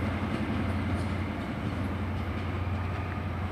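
A passenger train pulls away from Exeter St Davids bound for Penzance, a steady low rumble and drone of rail noise filling the platform, continuous and fairly close, with no voices.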